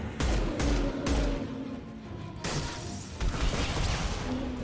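Pistol fire in the sci-fi shooter Mass Effect 2 aboard the Collector Ship: several sharp, loud shots spaced a second or so apart, then a denser burst of combat noise with echoing impacts.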